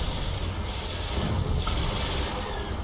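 Weapons fire booms and rumbles continuously in a Star Wars space strategy battle, Thrawn's Revenge with the Empire of the Hand, forming a dense, loud low barrage with no pauses.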